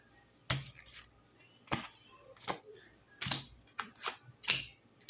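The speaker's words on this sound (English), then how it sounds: "Now I'm going to pick up these cards." Tarot cards picked up and handled at close range, giving a handful of sharp taps, flicks and shuffling snaps at irregular intervals in a quiet room, with no voices.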